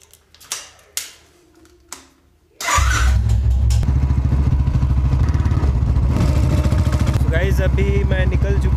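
A motorcycle engine fires up after a few clicks and knocks, then settles into a loud, close, steady chugging idle with a fast mechanical ticking, and a voice talks briefly before it starts.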